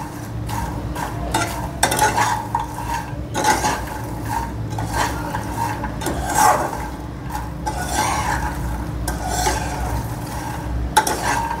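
Foxnuts (makhana) roasting in ghee with a spoon scraping and stirring them around a pan, repeated rasping strokes at a steady rhythm over a low, continuous hiss, close and fairly loud, with no voices.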